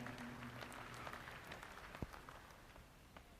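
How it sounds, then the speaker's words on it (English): Applause for junior championship exhibitors and breeders at an All-American Milking Shorthorn and Jersey dairy cattle show, a faint, scattered clapping from a distant crowd, with one sharp louder clap near the middle. "give these exhibitors and breeders and everybody involved a big, big round of applause"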